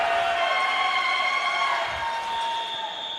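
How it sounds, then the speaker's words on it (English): Spectators at a college volleyball match between Lenoir-Rhyne and Coker make a steady cheering, whooping noise in a gym, a sustained crowd roar at moderate volume that eases slightly toward the end. "Crowd starting to get into this one, making a little bit of noise."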